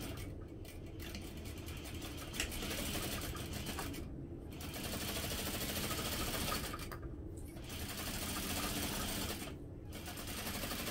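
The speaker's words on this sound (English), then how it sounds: "start sewing at the top." A home sewing machine runs steadily, top-stitching two layers of fabric on a holiday stocking, its continuous motor whir broken by a few short pauses.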